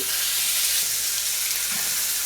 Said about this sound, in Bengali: এই হট প্যানে দিচ্ছি একটু পেঁয়াজ